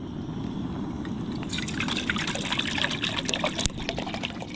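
Water pours into a cooking pot outdoors at an off-grid cabin. After a low, steady background hum, a close, bright splashing stream starts about a third of the way in and runs on with small gurgles.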